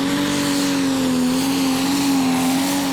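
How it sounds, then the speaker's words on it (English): A pulling tractor named Neighbor's Nightmare roars steadily at a Eurocup tractor pulling event in Brande, Denmark, its engine holding a loud, sustained drone over the three seconds with slight pitch wavering and broad crowd-and-wind noise. "We have Neighbor's Nightmare as the first tractor."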